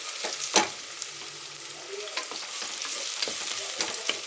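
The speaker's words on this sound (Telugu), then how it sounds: "ఆనియన్స్ అయితే మగ్గుతున్నాయి కదా" Onions sautéing in a pan for a Telugu thotakura pesarapappu dish give a steady, close sizzle, with a few sharp spoon scrapes and stirring clicks over it and no talking.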